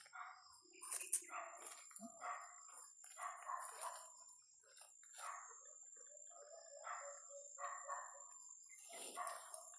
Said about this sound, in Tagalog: Yung aso malayo tol.